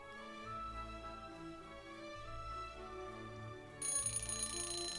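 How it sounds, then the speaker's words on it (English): A phone or alarm chime rings in a steady repeating tone pattern during a live watch-party stream, fairly loud and alone, with a brighter tone layer joining in at the end. "Oh, that's my alarm."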